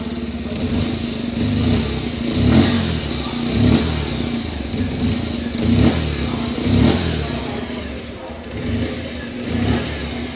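A Bajaj Pulsar 125 (2025 model) motorcycle engine idles nearby and revs up repeatedly in short surges, its throaty rumble rising and falling every couple of seconds.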